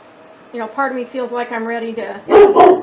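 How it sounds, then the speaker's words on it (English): A pet dog named as a household dog barks in a couple of loud, close bursts near the end, following someone talking over a quiet room. "that's my dog"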